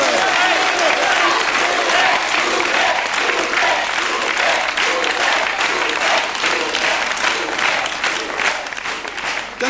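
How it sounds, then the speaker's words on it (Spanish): A crowd gives sustained, dense applause at a 1991 town celebration in Turre, Spain, loud and continuous throughout with scattered voices mixed into the clapping. "Otro aplauso grande."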